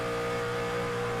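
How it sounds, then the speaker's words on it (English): Race car engine at the Luke's Playhouse 200 winding down through a corner, a steady mid-pitched drone with a sustained tone, heard alone. "you can hear him really letting the engine wind down in the corner"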